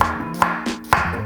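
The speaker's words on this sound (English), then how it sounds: "we will chop our onion" A knife chopping an onion on a board for a roast chicken jalfrezi curry, three sharp, evenly spaced cuts close to the mic, each a crisp tap.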